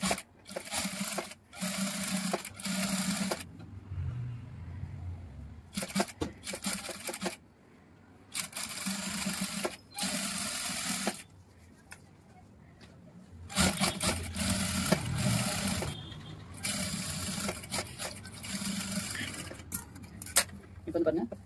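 A sewing machine stitches lace onto the neckline of a cotton blouse. It runs in several short bursts of stitching, separated by pauses, with a person talking in between.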